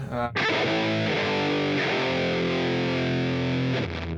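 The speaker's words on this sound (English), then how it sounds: "so that's a power chord" A single heavily distorted electric guitar power chord rings out loud and thick, sustaining for several seconds before it begins to fade.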